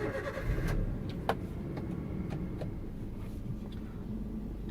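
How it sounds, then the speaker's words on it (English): A manual stick-shift car started up and settling into a steady idle, a close continuous low engine rumble with a few brief clicks and knocks from inside the cabin, no voices. "To start the car, press the clutch all the way in with your left foot and turn on"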